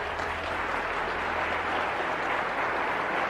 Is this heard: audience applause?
yes